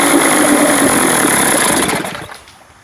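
A 1982 Evinrude 35 HP outboard motor running after a cold start, loud and close with a buzzy, slightly knocking drone that cuts out and fades to quiet in the last second.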